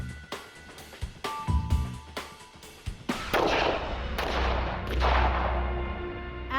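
Gunfire at a shooting range, a series of sharp cracking shots in quick succession followed by louder booming blasts with lingering rumble, fairly close and without talk.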